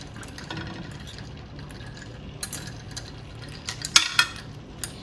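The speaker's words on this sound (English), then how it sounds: "I'm just going to give this very big stir" A spoon stirs detox lemonade in a jug, with quiet swirling liquid and a few light clinks against the container, close and fairly soft with no talking.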